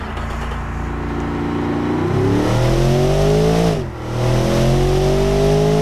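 A race car engine revs on a test track in the Automation video game, loud and close, its pitch climbing steadily, dipping briefly at a gear change, then rising again.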